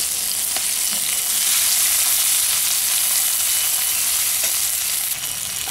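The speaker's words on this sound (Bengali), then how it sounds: "এবার থেঁতো করা রসুনটা এবার দিয়ে দিচ্ছি।" Crushed garlic frying in hot oil with browned onions for chicken kosha, a loud, continuous hiss of sizzling close by with little variation, no voices.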